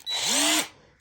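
A Ryobi 1/2 inch cordless impact wrench spins up in a single short burst, its motor whine rising and holding for about half a second before winding down, close and loud with no other sound.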